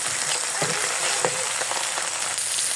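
Ginger, chilli and dried chilli paste fries in a pan for a pangas fish curry, with a steady close sizzle and a few soft scraping stirs.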